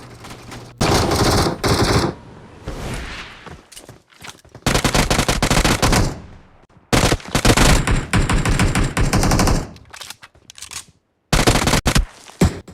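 Loud automatic gunfire in Free Fire, coming in several long sustained bursts separated by short quiet gaps, with no voices over it.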